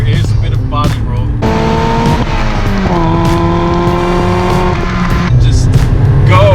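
A 1999 Mazda Miata with a 1.8-liter inline four driven hard, its engine revving loud and close through rising pitch sweeps, with a downshift and a blip in the middle; someone talks over it.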